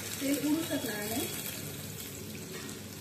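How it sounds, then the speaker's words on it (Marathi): Washed potato pieces fry in hot oil, giving a continuous crackling sizzle with spitting and splattering, close by. A voice talks briefly over the first second. "धुतलेले बटाटे असतात तर तेलात ते उडतात"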